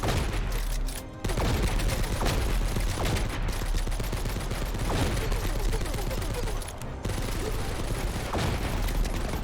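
Rapid, dense gunfire from a short-range weapon in a military shooter game set during the Afrin operation, bursts crackling almost without pause for the full stretch, with brief dips around two seconds and seven seconds.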